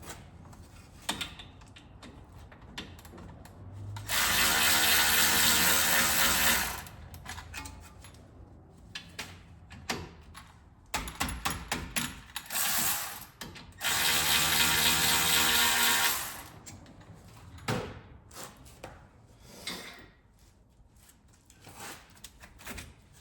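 A ratchet with a 14 mm socket works loose a Subaru brake caliper bolt with the wheel off, giving two long bursts of rapid clicking plus scattered shorter ratcheting runs and metallic clunks in a quiet garage.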